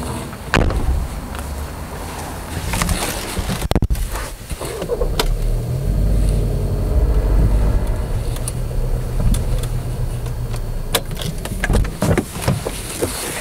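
A fully loaded car carrying a large telescope on its way to an astronomical observatory, with a steady engine and road rumble, interior thumps and clicks, and no talking.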